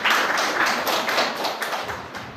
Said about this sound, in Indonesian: kita berikan aplaus lagi